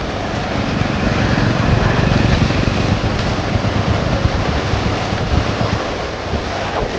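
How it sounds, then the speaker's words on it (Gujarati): Floodwater roars under a road bridge in a flooded farming village, a dense, continuous rushing wash with gusty wind buffeting the microphone and no voices. "એવડું પાણી જાય છે."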